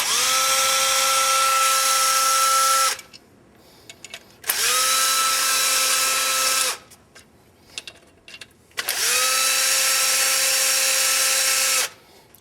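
Cordless power tool with a 3/8 socket spinning out clutch cover bolts on a Polaris Ranger: three loud, close whirring bursts of about two to three seconds each, separated by short pauses with small clinks.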